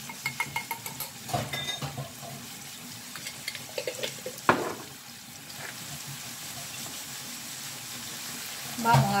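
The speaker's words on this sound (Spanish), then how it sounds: "Vamos a revolver." Tomato sofrito with a spoonful or two of tomato purée is stirred in a pan for Cuban shredded chicken. Close, irregular scraping clicks ride over a soft, steady sizzle.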